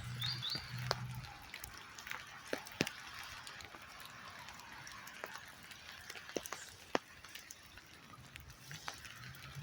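Rain dripping into water during a walk outdoors in the rain: faint, scattered, irregular ticks and drips under a soft hiss, with a few light bird chirps in the background.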